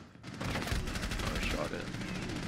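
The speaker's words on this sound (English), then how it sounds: "Oh, I shot him." Gunfire in the Rainbow Six Siege video game, a dense burst of shots close and loud over busy game noise, with talk mixed in.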